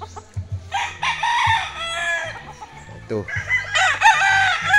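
Young fighting cock stags, around six and seven months old, crow repeatedly in a backyard, their calls close and loud with a few clucks, while someone speaks briefly in between.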